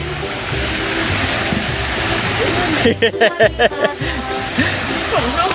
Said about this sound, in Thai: น้ำตกน้ำตก น้ำตกจำลองครับ